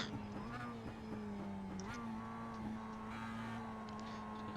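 A Mazda Cup race car in the iRacing game, on track at Lime Rock, gives a steady engine drone that shifts in pitch as it downshifts twice, faint and continuous.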